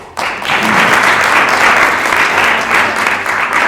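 An audience applauds the panel at a returned-citizens show, sudden loud clapping that starts abruptly and continues as a dense, steady burst.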